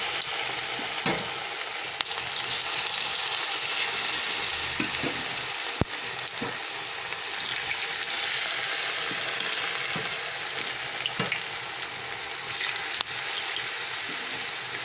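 Cauliflower 65 pieces deep-fry in oil in a kadai, giving a steady, moderately loud bubbling sizzle, close by, with occasional stirring knocks and crackles over the continuous frying.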